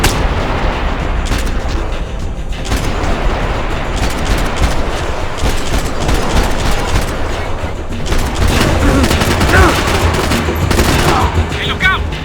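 Sustained gunfire and heavy shooting from a firefight in the video game Max Payne 3, with a sniper firing among dense bursts and booms that fill the whole stretch at high loudness, with occasional voices under the noise.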